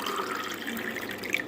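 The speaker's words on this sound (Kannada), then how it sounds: "ಸ್ವಲ್ಪ ತಣ್ಣೀರನ್ನು, ನಾರ್ಮಲ್ ನೀರನ್ನು ಇದ್ರಾಗ ಹಾಕಬೇಕು" Water poured into a vessel of homemade lemon juice, a steady close splashing trickle lasting throughout without a break.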